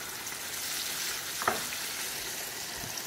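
Homemade chicken tenders sizzle steadily in overheated grease, a continuous broadband hiss and crackle with a brief louder pop midway and no voices.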